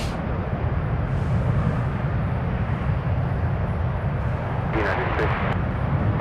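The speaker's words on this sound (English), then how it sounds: "Dreamliner touching down." A Boeing Dreamliner touches down on a runway at San Francisco, its steady broadband roar loud and continuous throughout, with a radio voice speaking over it.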